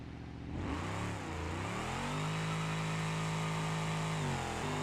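A BeamNG.drive drag car's high-torque engine revs hard down the strip, a loud, steady droning roar that climbs in pitch, dips, then holds a sustained high note before easing off near the end.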